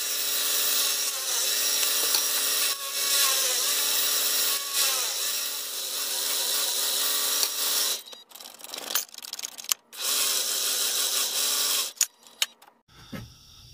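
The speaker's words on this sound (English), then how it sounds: "Hopefully I can drill down a little deeper." A power drill whines steadily into wood for several seconds, then stops and starts in short bursts with brief pauses between.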